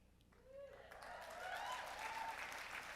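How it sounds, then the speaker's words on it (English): An audience at an HRC dinner in Houston breaks into applause that swells and holds, a broad wash of clapping with a voice speaking over it. "Don't applaud that"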